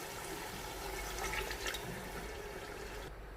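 Water pours steadily into a pot of cooking tomato and beef, a continuous splashing gush that stops abruptly near the end, with no voices.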